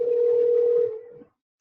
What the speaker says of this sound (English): I'll answer that phone call in a little bit.